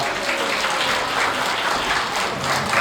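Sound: wedding guests applauding before a song

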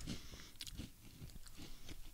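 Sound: chewing crunchy baked snack

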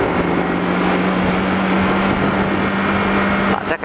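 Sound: truck overtaking on the road

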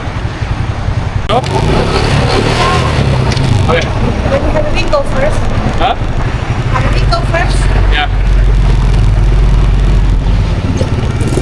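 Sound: old vehicle driving to the market

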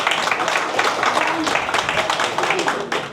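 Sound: audience applause at dance academy event

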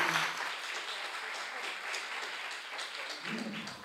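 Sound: conference audience applauding

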